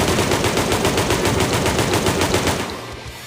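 Rapid automatic gunfire in the sandbox video game Melon Playground, a fast steady stream of shots that is loud and continuous before cutting off near the end.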